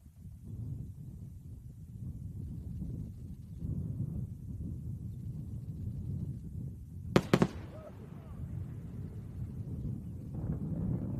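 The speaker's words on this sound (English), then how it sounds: "Let's listen for the sonic booms." A returning SpaceX Falcon 9 booster makes a double sonic boom: two sharp, close-together thumps that stand out from steady wind and ambient rumble at a distance.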